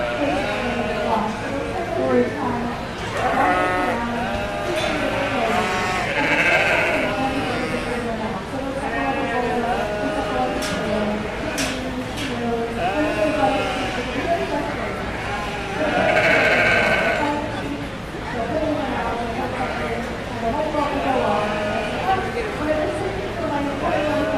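Sheep at a show bleat again and again, a steady chorus of overlapping cries from several animals, with people talking throughout.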